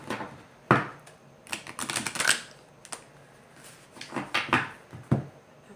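Oracle cards are shuffled in scattered bursts of quick papery riffling and flicking, with sharp slaps as the deck is squared, irregular over a few seconds and close by.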